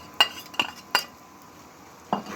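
Fish roe mixed with turmeric and salt is tipped into a pan of frying onions: a few sharp clinks of a utensil against the pan, then a quiet pause and another knock, with only a faint sizzle beneath.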